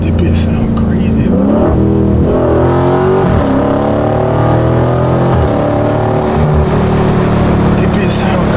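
A widebody Dodge Scat Pack with a mid muffler delete rumbles loudly, its exhaust revving up and falling back in several surges, with people talking over it.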